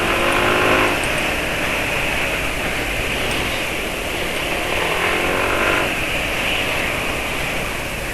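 A Honda CU Plus motorcycle with a bored-up engine runs while being ridden, a loud, steady engine drone with wind roar and slight rises in pitch, sustained throughout without speech.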